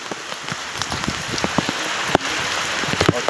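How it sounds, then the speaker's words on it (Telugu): Heavy rain pours down outside a car, a loud constant hiss of water with dense spattering drops and sharp individual hits on nearby surfaces. "కానీ వర్షం ఇంకా భారీ వర్షం అవుతుంది"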